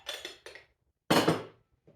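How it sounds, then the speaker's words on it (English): Spoon scraping and clinking against the metal inner pot of an Instant Pot while stirring pinto beans, a few short strokes then one longer louder scrape, close by. "And give this a stir around."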